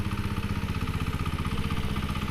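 Kentavr MB1010DE walk-behind tractor engine running steadily, a close, loud, even mechanical rumble with fast regular firing pulses and no break or talk.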